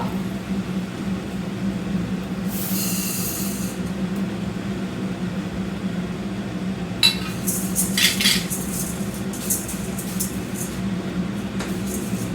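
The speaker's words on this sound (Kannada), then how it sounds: "ಇವಾಗ ಹೆಸರು ಕಾಳು ಫ್ರೈ ಆಗ್ತಿದೆ" Moong beans frying in oil in a pan make a steady, even hiss throughout. Bursts of metallic clinking and scraping from a utensil stand out twice, close and moderately loud, with nobody speaking.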